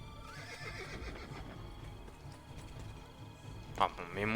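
In Assassin's Creed Brotherhood, a horse's hooves clatter beneath game ambience, then a sharp, loud whinny breaks out near the end.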